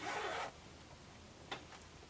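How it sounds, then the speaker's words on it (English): A sewing pattern garment's zipper pull rasps open for about half a second, close and fairly loud, followed by quiet and a faint tick or two. "Now we're going to open our zipper"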